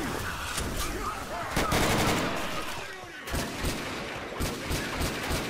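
Rapid bursts of automatic gunfire rattle through a Left 4 Dead 2 co-op match, loud and close with overlapping shots and brief pauses.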